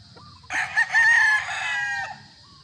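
A Dark Allen gamefowl rooster lets out one loud, close crow lasting about a second and a half, starting abruptly and trailing off, with no talk over it.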